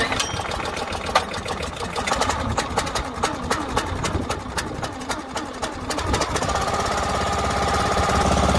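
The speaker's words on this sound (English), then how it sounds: "This is the Briggs & Stratton Vanguard 14 horsepower. It runs really good." A Briggs & Stratton Vanguard 14 hp engine powers a log splitter, running with a steady, loud, rapid knocking chatter. Near the end it settles into a smoother, even drone.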